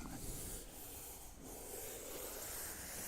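Soft, steady scratching and rubbing on a rough surface close to the microphone, continuous and gentle, with no voices.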